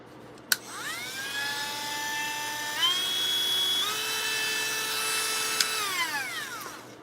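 A Dremel Light rotary tool whines steadily at high pitch, its tone stepping up and down as the speed changes, with a couple of sharp clicks, close and alone.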